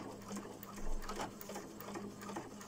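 A sewing machine stitches through thick recycled denim for a patchwork jeans skirt, giving a continuous close whirring chatter alone.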